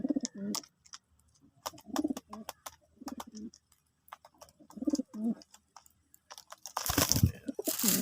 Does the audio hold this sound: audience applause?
no